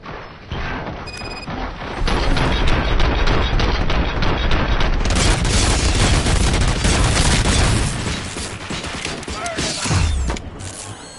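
Sustained gunfire in the Robocop video game, dense rapid bursts and booming impacts running loud for several seconds, with mechanical clanks and a crash near the end.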